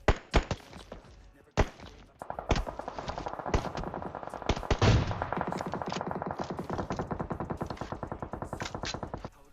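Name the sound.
gunfire in video game PUBG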